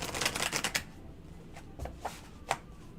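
Tarot cards are shuffled by hand in a quick riffling burst of dense crisp flutters, followed by a few softer separate taps and slides of the deck, close and alone.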